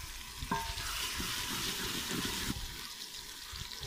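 Whole cumin seeds drop into hot oil in a beef karahi pan and crackle with a bright sizzle, which eases off after a few seconds. The sound is close and steady with no voices.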